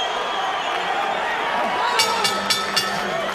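Boxing arena crowd at a Juan Manuel Marquez fight, a broad steady roar of spectators with a few sharp bursts near the end, a commentator's voice mixed in.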